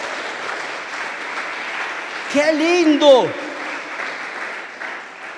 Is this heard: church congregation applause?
yes